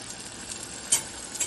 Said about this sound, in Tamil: நல்லா வந்து காய்கறியை வதக்கிக்கிறோம்.